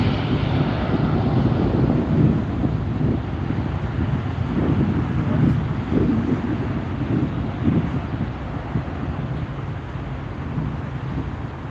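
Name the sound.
Embraer E-175 jet airliner at night at SNA airport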